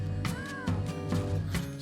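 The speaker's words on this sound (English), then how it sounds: "There are cats everywhere." A cat gives a single short meow, faint and brief, under a steady background of music.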